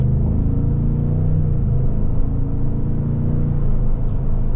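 A 2024 Chevrolet Tahoe RST's engine runs with a deep, steady rumble and a low, sustained rev, heard close and loud without any talking.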